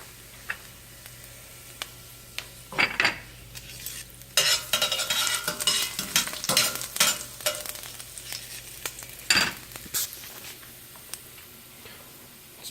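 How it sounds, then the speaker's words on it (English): Garlic tossed into shimmering hot oil for sautéed kale. After quiet opening clicks, the oil bursts into a loud, crackling sizzle mid-clip with spatula clatters, then fades back toward a softer hiss. "The oil's got a nice sheen going on here, a nice shimmer, so I'm going to throw the garlic in"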